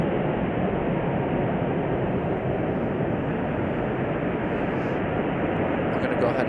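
A United Airlines jet arriving at Chicago O'Hare from Tampa produces a steady, broad engine roar throughout, loud and unbroken, with no voices heard.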